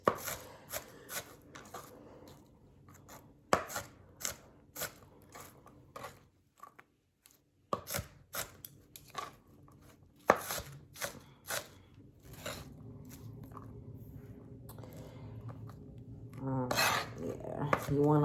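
A knife chops peppers or onions into small pieces on a cutting board for salmon patties, the sharp taps coming close and loud in irregular bursts and pauses, then a steady scraping and kitchen clatter toward the end.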